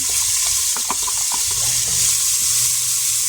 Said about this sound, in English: now that your pot's become hot again, you're going to add in 1 diced yellow onion